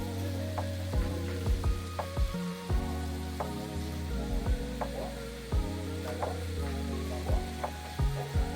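Mushrooms with mushroom seasoning and a pinch of salt browning in a pan, a steady soft sizzle punctuated by repeated knocking and scraping taps from stirring, close and without talk.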